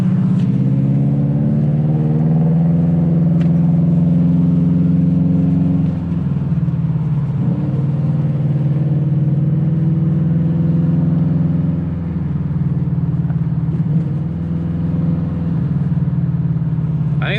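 A Subaru Legacy GT engine revving and idling through a leaking exhaust that rattles against the back of the car, a loud, steady, rough drone rising and falling with several throttle blips.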